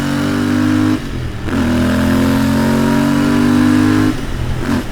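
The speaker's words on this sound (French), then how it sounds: "Tu sens le moteur qui monte tout doucement" A Royal Enfield Interceptor 650 motorcycle engine revs up close, holding a loud, steady drone that dips briefly, then climbs again in a smooth, rising pull with no talking.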